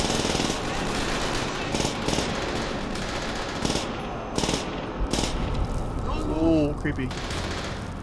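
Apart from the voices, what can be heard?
gunfire from the video game Call of Duty: World at War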